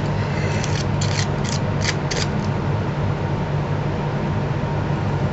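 Craft scissors with glue left on the blades snip through thin aluminium sheet for a card, a burst of about seven crisp cuts in quick succession, close up over a steady loud background hiss.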